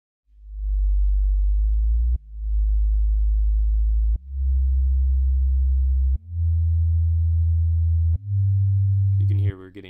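Pure, humming low sine-like tones from a self-oscillating synth filter in Reason, stepping upward in pitch, five sustained notes each about two seconds long, ending in a brief warbling squeal.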